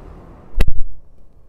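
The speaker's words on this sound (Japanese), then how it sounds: "でドア閉めた音聞いてみましょう。" A single solid door of a BMW XM SUV thuds shut nearby, a heavy low slam with a brief rattle, then quiet cabin hush.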